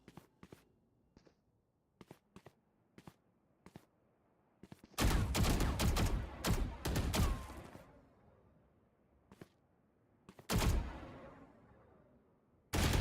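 Gunfire during a Valorant esports match: scattered single shots and footsteps, then two loud sustained bursts of rapid fire, with quieter isolated shots between and a final shot at the end.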